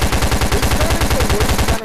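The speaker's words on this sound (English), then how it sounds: "This gun is the worst gun in the game." Rapid, loud automatic gunfire from a gun in a VRChat zombie survival game, a continuous burst of evenly spaced shots with no gaps.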